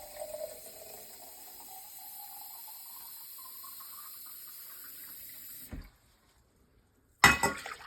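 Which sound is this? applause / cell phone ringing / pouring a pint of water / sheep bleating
pouring a pint of water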